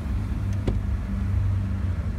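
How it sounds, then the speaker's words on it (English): A Toyota 1FZ-FE engine idles cold at slightly high revs, a steady low rumbling hum throughout with a brief faint tick partway through, no voices. "This vehicle does idle a little bit higher than it should"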